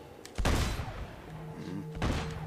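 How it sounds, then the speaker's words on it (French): Gunfire in the video game Uncharted 2: two loud, broadband bursts roughly a second and a half apart, with a low tonal hum and faint speech-like sound between them, all over steady game ambience. "J'entends des coups de feu, mais je vois pas d'où ils viennent."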